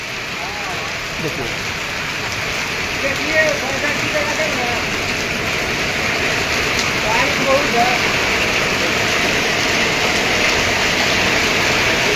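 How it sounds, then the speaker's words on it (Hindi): Steady heavy rain hisses throughout in a storm in Patepur, with strong gusting wind swelling and fading, while someone speaks briefly over the downpour. "जब गाड़ियाँ आती है तब मालूम चलती है कि कितनी तेज़ जो है बारिश है और कितनी तेज़ हवाएं हैं"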